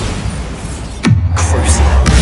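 A Bombarda spell explosion in Hogwarts Legacy, a sudden deep boom with a falling whoosh followed by low rumbling and a couple of lighter bursts, close and fairly loud.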